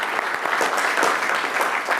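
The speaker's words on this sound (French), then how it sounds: "Une bonne main d'applaudissements pour ta réflexion." Brisk, dense applause from attendees at a municipal council session, many hands clapping together at close range for the whole moment without pause.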